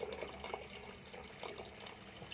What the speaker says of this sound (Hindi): ये हम अपने हिसाब से इसके अंदर पानी ऐड कर देंगे